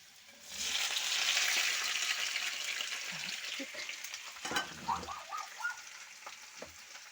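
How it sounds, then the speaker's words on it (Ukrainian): Chopped peppers and onions fry in four pans, a steady loud sizzle building up at once and continuing throughout, with occasional clinks and stirring knocks near the end. "Приготувала 4 сковорідки і буду обсмажувати все."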